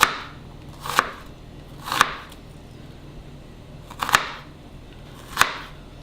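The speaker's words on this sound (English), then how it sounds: "all you have to do is chop, chop, chop" A knife chops food for a quiche on a cutting board, four or five sharp, separate thwacks with pauses between them, close and clear in an otherwise quiet room.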